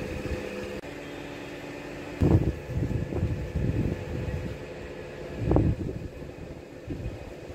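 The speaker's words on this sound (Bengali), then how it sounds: "ভীষণ মেঘ করেছে আকাশে, আর প্রচুর পরিমাণে হাওয়া দিচ্ছে" Strong wind gusts under a heavily clouded sky before rain, a steady rushing roar that swells in a few louder bursts.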